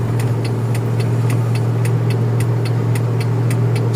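A 1997 Toyota Kijang LGX engine runs steadily during a gear test, a close, constant low drone with faint regular ticking above it.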